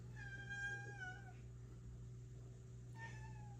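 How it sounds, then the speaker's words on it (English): A house cat meows indoors, two drawn-out, rising-then-falling cries separated by a pause, fairly close over a steady low electrical hum. "That's my cat."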